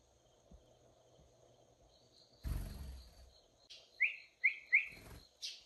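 A pet sparrow gives a quick series of four sharp, bright chirps close up in a quiet room, following a short muffled thump of movement.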